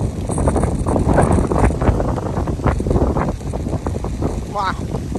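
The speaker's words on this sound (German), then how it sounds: "hier peitscht der Wind" Strong wind by the sea buffets the microphone in a loud continuous roar with gusty swells, and people talk under it.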